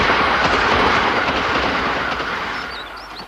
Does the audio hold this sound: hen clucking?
no